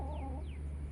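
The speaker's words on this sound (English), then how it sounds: "I really like these chickens." Australorp hens cluck softly nearby on a homestead, two short rising-falling calls over a steady low background hum.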